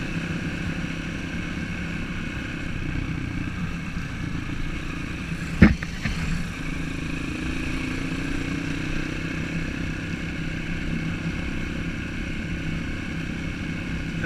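Several dirt bikes on a rural trail at dusk make a faint, distant, steady engine drone that holds throughout, with one short sharp knock partway through.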